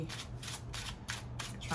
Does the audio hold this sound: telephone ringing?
no